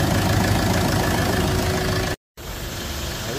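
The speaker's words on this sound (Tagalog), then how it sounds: "Tapos lalong tumahimik yung andar ng ating makina." A Mitsubishi Strada engine idles after its EGR valve was cleaned, a steady, even rumble running close and loud with no voices, broken once by a very short silent gap before the same idle resumes.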